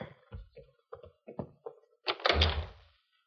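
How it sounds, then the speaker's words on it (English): Radio drama sound effect of a door opening: a series of light taps and knocks on wood, then a louder thudding rattle of the door swinging open, close and alone. "I'll open the door."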